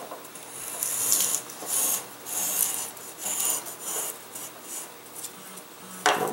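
Tapered wood for an F1N catapult glider is sanded in short rhythmic rasping strokes, close and dry, rising and falling in loudness with brief pauses between passes.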